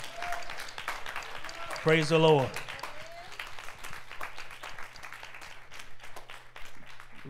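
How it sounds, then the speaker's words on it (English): A church congregation at a Friday night worship service claps in a steady patter throughout, with a voice calling out briefly near the start over the applause. "Come on, give the Lord a hand clap."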